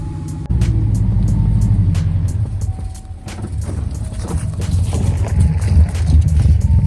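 A Subaru car driving, with steady low engine and road rumble plus some wind noise on the microphone, loud and continuous throughout.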